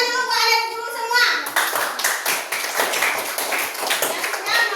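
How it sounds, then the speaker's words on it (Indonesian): Schoolchildren in a classroom clapping their hands together after a teacher's voice, a lively burst of many quick uneven claps filling most of the clip, close and loud. "Oke, tepuk tangan dulu buat anak guru semua."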